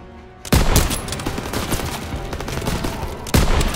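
Gunfire in Call of Duty WWII on a fortress battlefield: a sharp opening shot, then dense rapid volleys of rifle and machine-gun fire, ending with another loud blast.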